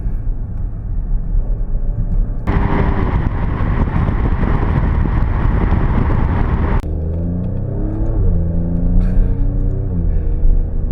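A 2024 Alfa Romeo Stelvio Quadrifoglio engine roars under hard acceleration, then a distinct break at a manual gear change drops into a lower, rising drone as revs build again, loud and close with no talk.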